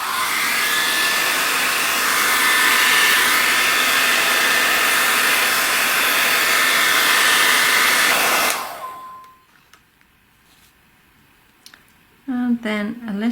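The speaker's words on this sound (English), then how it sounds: "and then using the air dryer." An air dryer blows on artwork being blended with gold luster and blending solution, a loud steady rushing hiss that cuts off abruptly, leaving near silence before a few soft handling sounds.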